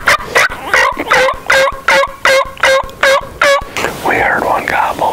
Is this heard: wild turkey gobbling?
yes